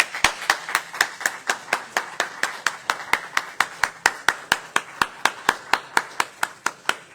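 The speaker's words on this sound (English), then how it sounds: "Clap, Arthur." Close, sharp hand claps at a church service beat out a brisk, perfectly even rhythm of about thirty strokes, each crisp and distinct with brief decay between.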